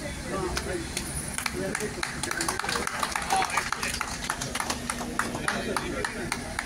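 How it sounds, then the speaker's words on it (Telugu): An audience at a North America Telugu Association autism event claps in a steady, scattered patter of many hands, moderately loud, with voices murmuring underneath. "క్లాప్స్"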